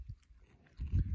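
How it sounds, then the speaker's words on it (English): Close, wet chewing of beef jerky on a hike, a few soft mouth sounds building to louder crunchy bites near the end, with no talk. "Go get yourself some beef jerky right now and chew with me."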